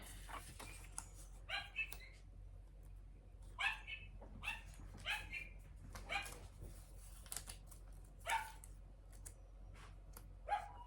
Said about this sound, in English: that doggy just keeps barking